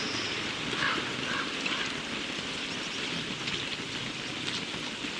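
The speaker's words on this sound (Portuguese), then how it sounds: "Falei que a chuva tava bem intensa." Heavy in-game downpour in Don't Starve Together, a constant close hiss of rain with a faint low rumble beneath, unbroken and without speech.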